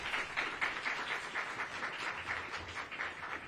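An audience claps for Representative Lee at a gathering of US senators and House members, with faint, steady, evenly paced clapping from a distance and no voices over it.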